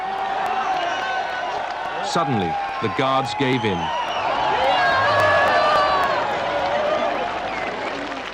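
A huge crowd cheers and roars as the Berlin Wall falls in 1989, a dense, sustained swell of voices and applause beneath a narrating voice.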